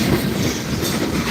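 A Norfolk Southern freight train rolls past at close range, its cars clattering steadily with rhythmic clickety-clack from the wheels and couplers, loud and continuous with no voices.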